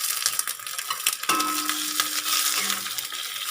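Chopped onion, garlic cloves and tomato sizzle steadily in hot ghee, a close, continuous crackling fry with a few light metallic clinks of a utensil against the pan.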